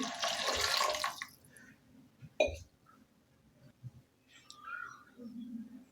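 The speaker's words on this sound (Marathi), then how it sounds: "इथे मी एक तांब्या भरून पाणी घेतलेलं आहे ते पूर्ण पाणी यामध्ये ओतत आहे" Water from a full pot is poured into a pan to cook moth beans for Puneri misal in a home kitchen. It makes a steady, close splashing rush for about a second and a half, then quiet clinks and small sounds follow.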